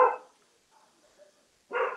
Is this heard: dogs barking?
yes